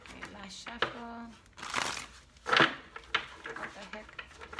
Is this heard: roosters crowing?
no